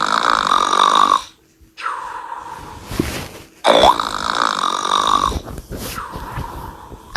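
A cartoon character gives long, drawn-out snores, several loud rasping, tonal breaths separated by brief pauses, up close and with no talking.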